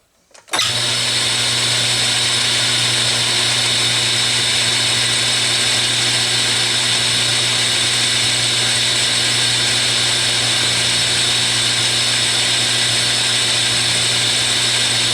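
A lathe takes a light cut on a Stuart S50 steam engine part, giving a loud, continuous machine hum with steady tonal whine that runs unbroken for the whole stretch, nearby.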